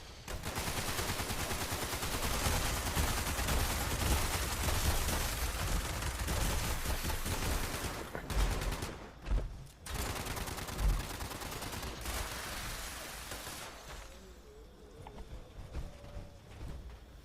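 Gunfire in the video game Fallout 76 during a bog clearing mission, heard as dense, sustained bursts of rapid shots that break off, then resume in scattered volleys before fading.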